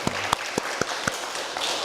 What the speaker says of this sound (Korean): 축복하고 격려하는 의미에서 박수로 우리 감사를 표하면 좋겠습니다